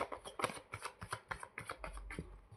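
Tarot cards shuffled by hand nearby, a rapid run of riffling bursts in an uneven rhythm, with no talking.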